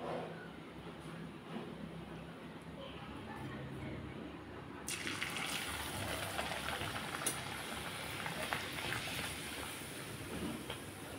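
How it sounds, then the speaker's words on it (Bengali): Luchi, a puffy flatbread, deep-frying in hot oil: a low, steady background turns into a loud, bright sizzling hiss about halfway through, which then carries on evenly. "এখন আমি লুচিগুলো ভেজে নেব।"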